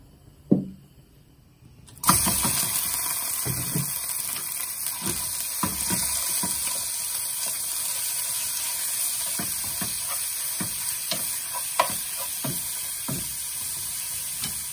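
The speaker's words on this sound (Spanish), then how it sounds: "Y voy a agregar la carne para que se vaya friendo." After a soft thump, ground beef hits hot olive oil and a loud, steady sizzle takes over, with occasional scraping stirs, no talking.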